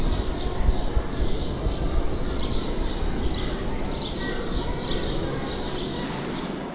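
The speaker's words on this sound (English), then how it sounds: "I think those birds that you can hear, if you can hear them, are sparrows, mainly." Sparrows chirp in a botanic garden, with many small, high tweets overlapping in a busy chorus over a broad, steady outdoor rumble, neither very close nor very loud.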